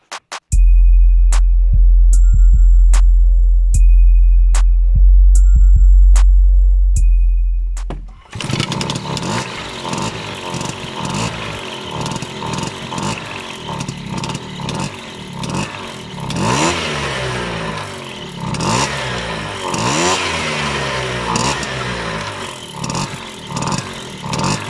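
A Piaggio Ciao moped fitted with a hybrid transistorised ignition starts up and settles into a loud, steady two-stroke idle with a rattling, buzzy tone. The recording begins with a brief loud electronic tone.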